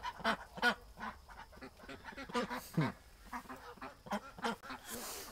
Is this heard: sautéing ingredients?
no